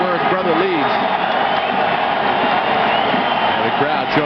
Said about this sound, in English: the crowd showing the appreciation for guys like Mulhern and Fozzie